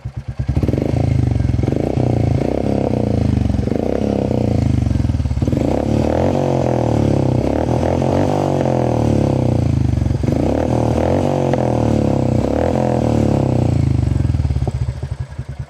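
Royal Enfield Meteor 350 motorcycle fitted with a bassy Gursevak exhaust, running steadily and loud and close for about fifteen seconds, with a deep rumble, a couple of revs swelling and dropping, and no talking.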